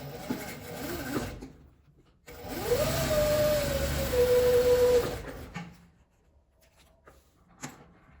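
Sewing machine stitching a zipper pouch: a steady mechanical whir runs for about three seconds mid-clip, framed by quieter handling noises before and after.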